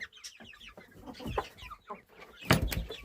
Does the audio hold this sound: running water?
no